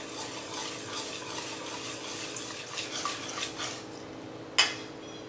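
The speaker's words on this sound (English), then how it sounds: "Now add a little bit of milk" Whisk scraping and clinking in a bowl as milk is worked into buckwheat crêpe batter, steady swishing that fades toward the end with one sharp clink near the close.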